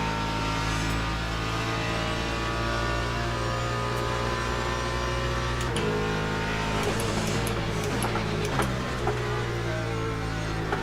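A hypercar races past at Sebring in a World Endurance Championship event, its loud engine drone holding steady before shifting pitch as it passes close by, with brief sharp mechanical clicks and more engine noise trailing behind.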